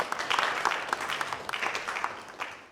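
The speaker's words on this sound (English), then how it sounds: "let's give him another round of applause." Applause from an audience for the President-elect of the Ghana Institution of Engineering, with dense, steady clapping that carries on evenly for a few seconds without any voices.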